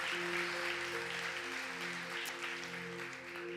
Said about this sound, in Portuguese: Alguém pode aplaudir Jesus nessa noite?